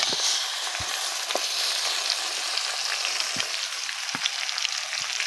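Duck meat fries in a pan with a loud, continuous close-up sizzle, broken by scattered pops and light spatters.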